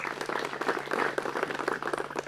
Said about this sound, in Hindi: अपना भी जोरदार तालियों से स्वागत कीजिए